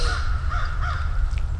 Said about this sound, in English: I want to say ravens. They're massive.